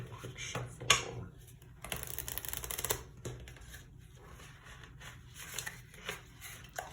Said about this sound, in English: Let's do a quick shuffle.